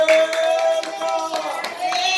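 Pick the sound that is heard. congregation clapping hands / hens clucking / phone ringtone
congregation clapping hands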